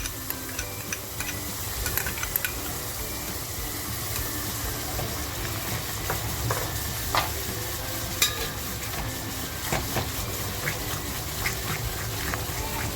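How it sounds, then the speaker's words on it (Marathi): Raw masala for a surmai fish curry fries and is stirred in a pan, with a continuous low sizzle broken by frequent small clicks and scrapes of the spoon, close and fairly quiet, without speech. "हा कच्चा मसाला असल्यामुळे ना आपल्याला तो छान असा परतवून घ्यायचा आहे फ्राय करायचा आहे"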